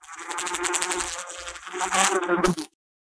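A bee buzzes close and loud in a steady drone, wavering slightly in pitch for over two seconds before cutting off abruptly into silence.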